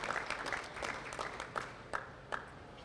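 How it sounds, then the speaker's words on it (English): An audience at a press conference in Boston gives a round of applause, the clapping fairly quiet and thin, with a few sharper individual claps standing out toward the end. "So let's give them a round of applause"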